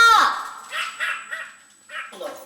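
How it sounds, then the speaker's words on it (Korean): Pet dogs at home bark and yip excitedly in welcome, a quick series of close, loud barks with whiny edges, over a faint background tone. "강아지들 반기는 소리만 들린다"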